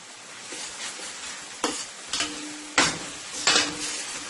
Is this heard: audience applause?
no